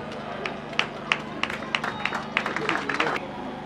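Guests at the inauguration of the Maman Kalunga school clap in sparse, uneven bursts, a scattering of individual hand claps rising over a low murmur of crowd chatter and background hum.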